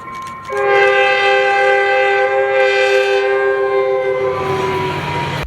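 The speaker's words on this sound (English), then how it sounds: "a southbound FrontRunner with 115 leading, which also gave a horn show" FrontRunner commuter train with locomotive 115 leading, sounding a loud, sustained multi-tone horn up close as it passes, with rumbling rail noise underneath.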